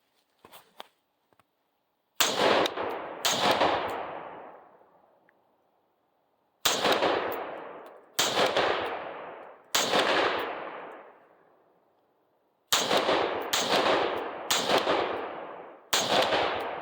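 Rifle shots from an SLR upper fitted with a Surefire muzzle device, outdoors, about eleven loud, sharp blasts, each followed by a rolling echo, in irregular single shots and quick pairs, with no talk.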